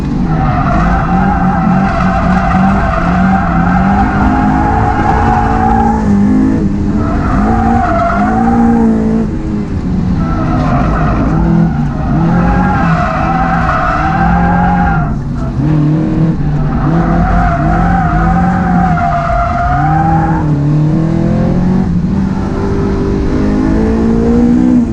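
A heavily modified Honda S2000 slides through corners on a track, its tires squealing in long loud howls broken by brief gaps while the engine revs hard underneath.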